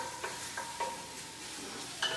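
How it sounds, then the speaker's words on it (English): Onions and bacon sweating in a pot for a Sunday gravy, giving a soft, even sizzle with a few light scrapes from the stirring spoon, quiet and close with no speech. "we're going to stir this sauce, these onions and bacon, and get them sweat down"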